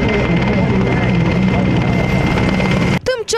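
A military helicopter flies overhead, giving air cover to paratroopers scouting a water crossing. Its loud, steady rotor roar runs throughout and cuts off abruptly near the end, where a brief voice is heard.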